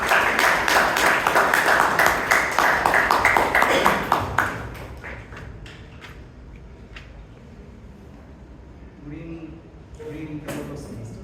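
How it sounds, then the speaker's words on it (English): Audience clapping at a Toastmasters club meeting in Bangalore, a dense round of applause for the first several seconds that thins into scattered claps and fades, with faint room murmur and a brief voice near the end. "Big round of applause for Toastmaster Naveen."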